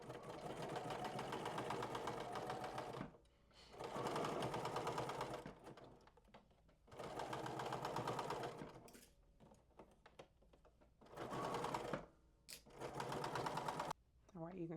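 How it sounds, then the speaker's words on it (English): A domestic sewing machine stitches a seam on a garment in repeated bursts of rapid mechanical whirring, each a couple of seconds long, separated by pauses and faint handling sounds. "Let's go ahead and head over to the machine and stitch this down."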